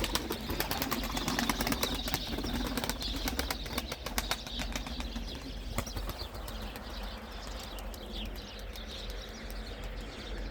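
Tumbler pigeons beat their wings in a loft, giving a busy, continuous flutter with repeated sharp flapping bursts and faint chirps throughout.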